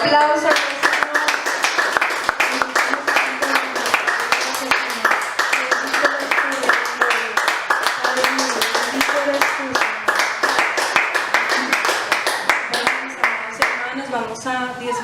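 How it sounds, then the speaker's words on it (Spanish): Church congregation clapping and applauding during a worship service, a dense steady patter of many hands lasting throughout, with voices and music-like tones mixed underneath. "Tengo un aplauso."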